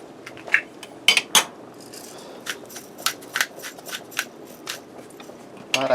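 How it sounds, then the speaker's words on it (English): A spoon stirring milk into a sauce in a pan for shrimp Alfredo, heard as light intermittent clinks and scrapes of metal on metal that are quiet and close, with a quiet background between strokes. "I'm going to give this a stir"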